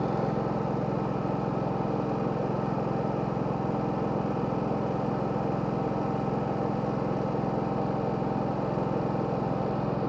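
A GenMax 10500XiT generator runs at low idle about 23 feet away, giving a steady, even engine drone with no change over the whole stretch.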